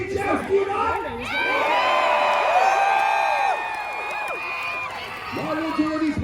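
Crowd at a Renaissance fair joust cheering and whooping loudly, a dense sustained roar of many voices with shouts rising over it before tapering off.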